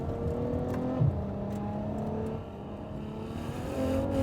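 Ferrari F12 with its V12 engine pulling hard on the road, a steady smooth engine drone that dips slightly mid-run and rises again toward the end, heard close from inside the car.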